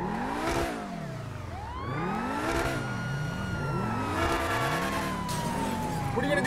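A wailing police siren sweeps up and down over a car engine in GTA 5 FiveM, loud and continuous with rising and falling tones, while faint engine noise runs beneath.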